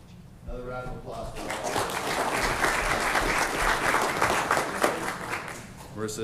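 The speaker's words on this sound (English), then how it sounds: "Another round of applause." Sustained applause fills a city council meeting chamber, a steady wash of clapping hands from the audience that rises quickly and holds at an even level for several seconds.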